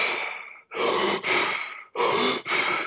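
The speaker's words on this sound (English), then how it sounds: "but like more of a deep, fast breathing. It sounds like this." Deep, fast hyperventilation-style breathing done deliberately as a breathing exercise: rapid, forceful airy inhales and exhales, close to the mic, in a steady rhythm with brief pauses between breaths and no talking.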